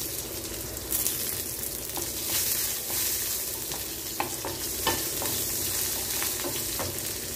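Sambar onions (shallots) sautéing in a pan, a steady close sizzle with repeated scraping stir strokes throughout and no talk.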